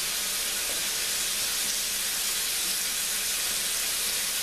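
Beef rouladen searing in a hot pan, a loud, steady, broadband sizzle that holds unbroken throughout without speech.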